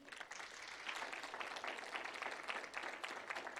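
A church congregation applauds steadily in a large room, a dense wash of clapping that stays even throughout.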